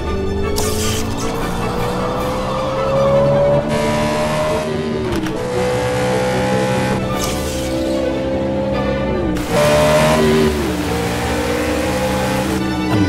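Race cars on a motorsport track roar past one after another, engines revving high and dropping through gear changes, loud and close throughout with repeated passes and no talk.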